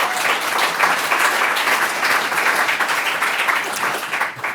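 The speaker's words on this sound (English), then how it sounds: "A little round of applause, please." A lecture audience breaks into steady applause, a dense, sustained patter of many clapping hands that holds at even strength and then begins to thin toward the end.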